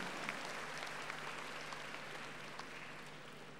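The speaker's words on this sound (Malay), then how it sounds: "berikan tepukan yang gemuruh terhadap penganjuran konvensyen ini" Steady applause at a closing ceremony for a women's technical entrepreneurship carnival convention, a fairly faint, even patter of many hands that holds without a break and fades slightly toward the end, with a low hum beneath.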